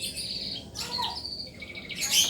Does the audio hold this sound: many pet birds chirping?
yes